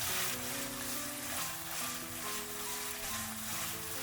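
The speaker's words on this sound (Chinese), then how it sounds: "油热之后将腌好的肉丁倒进来，快速的翻炒均匀，将肉丁炒散炒香" Diced marinated meat stir-frying in hot oil in a wok, a steady loud sizzle and hiss with occasional scraping as it is tossed, close and continuous, with no talk.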